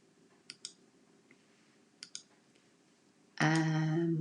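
A computer mouse gives two pairs of soft, close double clicks, then a loud sustained tonal sound cuts in at the end.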